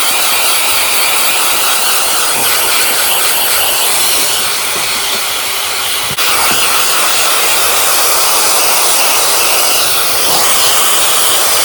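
A Shark Flexstyle hair dryer blows steadily and loudly throughout, a continuous broadband airflow roar with a slight dip in level midway as the speed setting changes.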